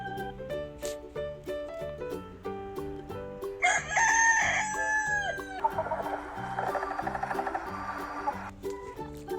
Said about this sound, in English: Rooster and chick.